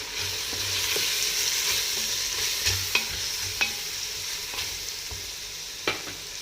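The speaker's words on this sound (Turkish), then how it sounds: "bir tatlı kaşığı zerdeçal, bir tatlı kaşığı kimyon şöyle ilave ediyoruz. Tekrardan bunu biraz çeviriyoruz." A spoon stirs turmeric, curry powder and cumin frying in oil in a pan, giving a steady sizzle broken by several sharp scraping knocks, with no voice present.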